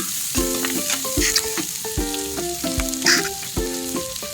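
Green and red chili sizzle loudly in a hot pan as they are stirred, with steady frying crackle and repeated scraping strokes of the utensil, and no voices.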